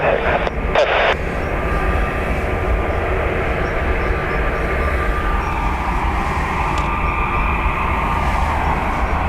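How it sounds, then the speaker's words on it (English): A landing airliner roars with loud thrust reversers at Dublin Airport, a sustained heavy engine rumble heard from the spotting area with a brief clatter at the start and faint voices in the background. "No, just very loud reversers."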